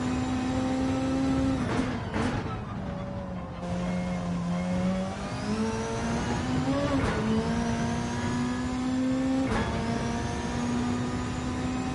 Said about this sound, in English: Listen to that turbo spool, fellas.